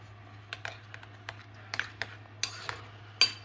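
A spoon mixes egg into lasagna ingredients in a pan, giving scattered light scrapes and clinks at an irregular rhythm over a low steady hum, faint and close, with no talk.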